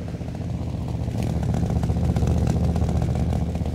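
A 1983 Dodge Ram truck's engine runs steadily at idle, its single small exhaust pipe giving a low, rough, continuous rumble with a faint rhythmic chugging throughout.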